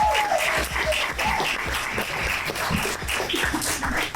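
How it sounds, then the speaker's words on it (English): A comedy club audience at the Hollywood Improv applauds a stand-up comedian, a full steady round of clapping with scattered cheers that carries on without a break. "give him a nice round of applause"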